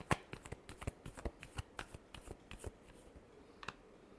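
A deck of tarot cards being shuffled close by, a quick run of crisp papery riffles and flicks in uneven bursts, quiet and alone with no talking.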